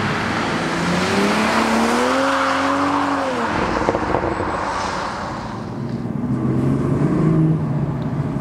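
A 2020 Toyota GR Supra with 340 PS accelerates hard, its engine and turbos rising in pitch and then surging on, heard from inside with the window down amid wind and road noise.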